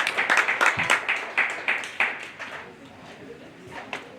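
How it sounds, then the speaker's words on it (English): An audience at a county fair dairy show claps in a brief round of applause that starts brisk and quickly thins to scattered claps. "let's go ahead and give these kids a big round of applause."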